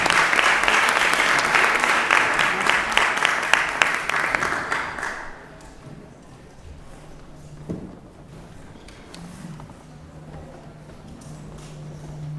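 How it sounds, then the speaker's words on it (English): Audience applause after a national anthem at a Lowell School Committee meeting, a dense, loud wash of clapping for about five seconds that then fades into quiet room noise with a faint low hum. "And a round of applause for Vale Marie Kendall for a wonderful rendition of the national anthem."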